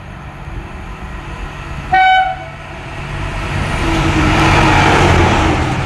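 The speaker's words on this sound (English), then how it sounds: "There we go, train maintenance train, nice, with a tone" A Network Rail track maintenance train, class 75 locomotive hauling about 715 tonnes, rolls through Market Harborough station, giving one loud, short horn blast over the steady rumble of passing wagons that swells toward the end.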